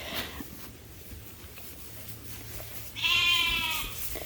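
A bottle-fed lamb on a sheep farm lets out one clear, close bleat near the end, after several seconds of quiet barn ambience.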